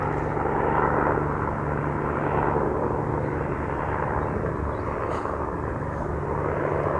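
A helicopter flies low over an allotment plot, a loud continuous rotor and engine roar with a steady low hum filling the whole stretch, no voices.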